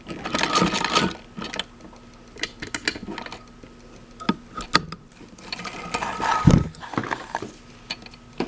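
A 1937 vintage Singer sewing machine stitching a leather belt, with bursts of mechanical clatter and ratcheting that start and stop over several seconds, close up, with brief handling noises between runs.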